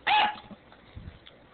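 A dog barks sharply at an onion ring, one loud, close bark followed by faint whimpering sounds and quiet rustling.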